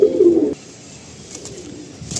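Pigeons, including a dark-speckled bird, give a loud, close low coo at the start, then fainter cooing and soft rustling continue behind.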